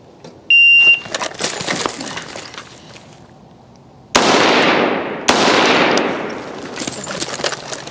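Rifle fired during a 10-round stamina drill with sprints between cones; a few loud, sharp cracks with long ringing tails, separated by pauses and quieter background noise.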